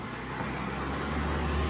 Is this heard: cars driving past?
yes